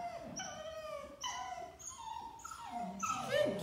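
A puppy whimpers in a series of four high, drawn-out whines with falling pitch, close and moderately loud, with no talking.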